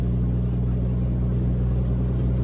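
Steady low diesel rumble of a big yellow truck's engine idling close by, even and unbroken with a faint hiss above, no talk.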